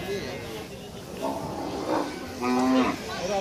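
Cattle at a cow market moo several times, a couple of drawn-out, rising lowing calls close by, with chatter and crowd noise mixed in around them.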